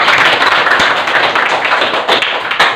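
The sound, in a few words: audience applause for the speaker, Ibu Dini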